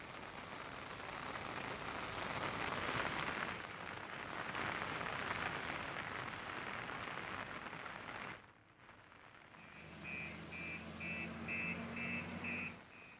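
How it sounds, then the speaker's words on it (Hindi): Steady rain falls in Karnaprayag, a continuous dense hiss of drops on surfaces that runs for several seconds before cutting off, followed by quieter background hum and faint repeating electronic beeps. "लगातार कर्णप्रयाग में भी बारिश हो रही है"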